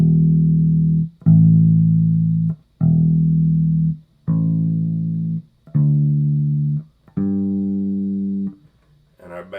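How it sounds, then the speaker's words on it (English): Bass guitar demonstrates a perfect fourth, plucking six low notes in steady succession, each ringing about a second before the next, close and clean, with no voices. "The next interval we have is called the perfect fourth,"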